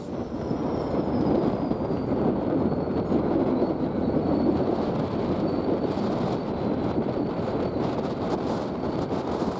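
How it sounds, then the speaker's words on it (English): A pair of Burlington Northern SD40-2 diesel locomotives from the late 1970s passes in high winds, heard as a steady broad rumble with rail noise and wind buffeting across the whole stretch. "we still see an old Burlington Northern locomotive pair kicking around, holding on strong to their classic green paint."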